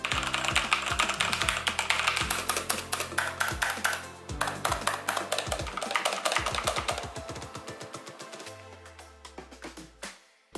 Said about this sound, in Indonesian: Nah kalau Red Switch suaranya sedikit lembut.